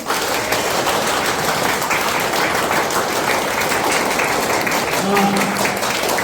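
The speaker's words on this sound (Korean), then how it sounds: "자, 손 더 올리시고 자, 박수 시작!" Dense clapping from a lecture audience at a family summer camp fills the whole stretch at a steady, loud level, with a brief voice surfacing near the end.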